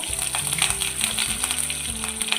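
Chana dal, urad dal and green and dried red chillies frying in hot oil, a dense continuous crackling sizzle, close and steady, with no voices.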